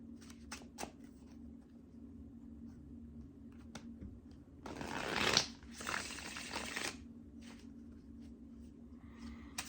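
Tarot cards being shuffled by hand in a quiet room, a few short riffle bursts with one louder shuffle in the middle, crisp and close amid soft handling noises.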